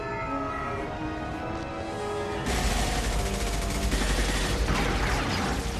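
Mass Effect video game battle erupts into loud, dense bursts of gunfire after a short stretch of humming background tones, the shots crackling continuously in a sustained barrage.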